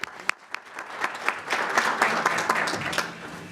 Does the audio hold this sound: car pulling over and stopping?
no